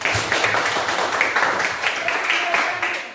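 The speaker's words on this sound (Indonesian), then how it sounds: "Oke, baik, tepuk tangan" A class of students claps in a classroom, a short burst of scattered clapping mixed with children's voices and chatter.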